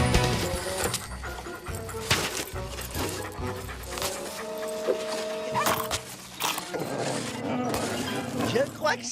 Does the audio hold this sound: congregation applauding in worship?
no